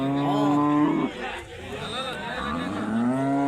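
Cattle lowing at the Bagalur livestock market near Hosur, long resonant moos up close over a busy background of market chatter and crowd murmur.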